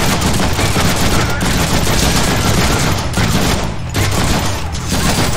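Sustained rapid machine gun fire in the Deadpool video game, continuous and loud with brief gaps between long bursts.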